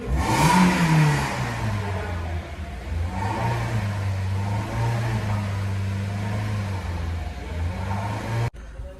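A Mitsubishi Colt with a robotic gearbox starts up and revs, the engine rising to a loud roar then settling into a steady idle hum for several seconds before cutting off abruptly.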